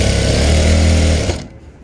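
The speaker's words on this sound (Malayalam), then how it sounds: "ഇതാ ഇതുപോലെ നമ്മൾ ഒരു മടക്ക് നമ്മൾ ആദ്യം തയ്ച്ചെടുത്തു" A sewing machine stitching a fold in fabric, a loud, close mechanical whir with a rapid buzzing rhythm that runs steadily and then winds down and stops.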